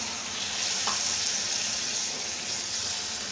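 Ginger-garlic paste and onion frying in a pan for Bengali masoor dal, a steady soft sizzle with a faint watery hiss running evenly throughout, close and alone with no talk.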